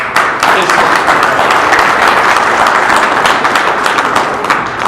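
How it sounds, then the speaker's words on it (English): A crowd at a Conservative campaign speech event in Brampton, Ontario gives a round of applause for Kyle, sustained loud clapping from many hands that holds steady for several seconds with faint voices mixed in. "I'd like everybody to give a round of applause to Kyle."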